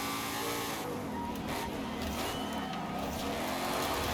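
A 2024 Ford Mustang engine drones in Forza Horizon 5, holding a steady, loud note close by for the whole stretch with slight rises in pitch and no break.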